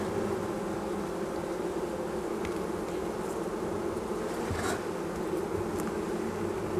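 Honeybees buzz as a dense, continuous drone inside an opened beehive, a steady hum close by with no speech.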